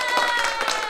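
A short burst of crowd clapping and cheering, used as a canned sound effect, dense and fairly loud with a bright, ringing edge throughout a single second.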